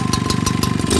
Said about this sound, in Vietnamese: Động cơ hai thì cũng đổ anh em nha, binh binh con luôn.